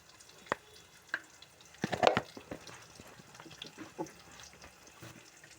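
Fresh mutton liver fries in a pan with turmeric and salt, giving a soft, patchy sizzle broken by a few sharp spatula taps and a brief louder stirring burst near the middle.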